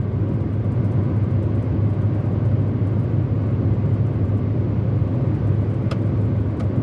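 Inside a Hyundai i20 Sense on an evening drive, a steady low road rumble and engine drone fill the cabin evenly and continuously, with no talking.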